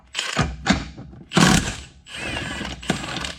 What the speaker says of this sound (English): while I got this thing in the vise, we'll pop the nut off